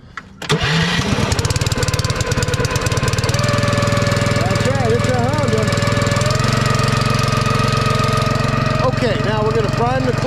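A Zeta 40P pressure washer engine fires after a brief crank and settles into a loud, steady close-up drone that runs continuously with a slight change in pitch partway through.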